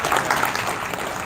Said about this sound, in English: Please give a big round of applause to Farhan sir and our